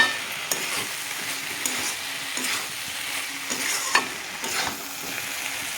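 Eggplant frying with spices in a pan, a continuous sizzle broken by repeated scraping stirs and occasional clinks of the utensil, close and moderate in level.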